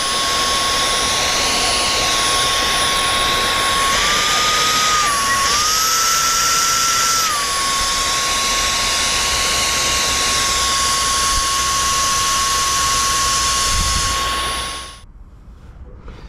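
A Dyson V10 Absolute stick vacuum cleaner runs in standard mode with a loud, steady high-pitched motor whine and airflow rush. The pitch wavers briefly midway, then the motor cuts out near the end, leaving near silence.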